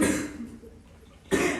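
A person coughs twice at close range, one sharp burst at the start and another near the end, separated by a quiet gap with faint room noise.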